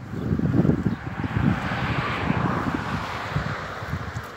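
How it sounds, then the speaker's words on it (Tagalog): Wind rushes past while someone walks along a roadside on a sunny day, a soft continuous blowing with low rumbling gusts near the microphone. "Mahangin."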